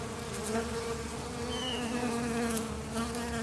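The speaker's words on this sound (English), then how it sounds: "There are so many bees on the corn and they're so loud." Bees swarm around corn tassels in a balcony garden, their steady droning buzz held close to the microphone, dense and continuous with no voices.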